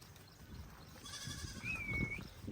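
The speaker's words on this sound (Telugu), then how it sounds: "మేకలు అయితే మంచిగా మేస్తున్నాయి." Goats are grazing outdoors during the rainy season, and a faint bleat is heard over a low, rumbling outdoor background.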